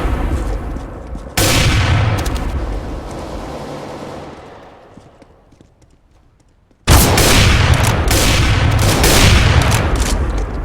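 Video game gunfire, with loud dense bursts of shots at the start and again near the end, fading to quiet in between.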